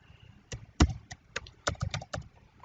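Typing on a computer keyboard while filtering an Excel sheet, about a dozen crisp close key clicks in an irregular burst, with a sharper keystroke near the start.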